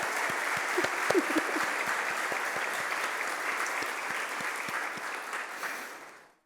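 A round of steady, dense audience applause fills the hall at a SEPTA awards ceremony honoring the organization's original founders, holding evenly before fading out at the end.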